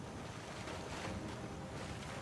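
Swimming through water in Skyrim, a steady watery wash with wind-like rush throughout, continuous and moderately loud with no talk.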